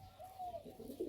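A male local Giribaz pigeon from Rajshahi gives a short, soft, low coo, faint and close, with no talk.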